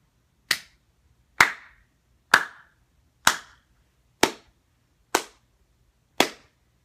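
Seven single, sharp hand claps land alone at an even, slow pace about a second apart, each crisp and close with a quick decay into near silence.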